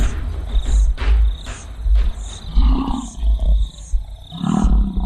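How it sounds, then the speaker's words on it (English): A lion roars to defend its territory on an open plain, with deep, rough, sustained roaring bursts that rise and fall over a continuous high chirping of insects in the background. "The thundering sound of a lion defending its territory can be heard from 8 kilometers away."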